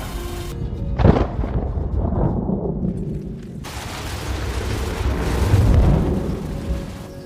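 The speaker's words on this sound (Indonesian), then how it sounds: "Kini, hujan badai angin ribut mulai menerjang para pendaki." Deep rumbling thunder with a sharp crack near the start, followed by a sustained roar of wind and heavy storm noise on Mount Everest.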